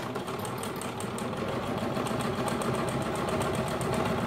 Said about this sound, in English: we're just gonna sew down the long edge.